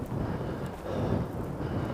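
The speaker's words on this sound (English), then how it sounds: "again, extremely windy." Strong wind buffets the microphone in a continuous low roar, loud and close, with no voices, at Healey Dell.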